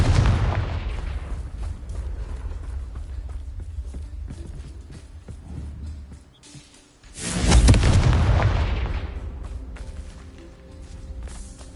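Confringo fire-spell blasts in the Hogwarts Legacy video game, heavy booming explosions with a loud rolling burst midway and decaying rumble, close and dominant.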